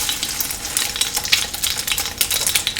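Egg-dipped French toast roll-ups fry in a hot pan, a close, continuous crackling sizzle with dense bursts of spitting and popping.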